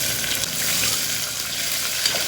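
Green chillies, chana dal, ginger and chopped onion fry in hot oil for masala daliya upma, giving a loud, steady, close sizzle with occasional stirring scrapes and no talking.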